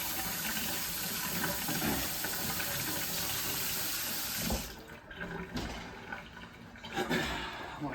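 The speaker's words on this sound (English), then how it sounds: "Wash your hands." Hands washed under a running kitchen tap while cooking chili, a steady loud rush of water that thins and splashes unevenly as the hands move through the stream.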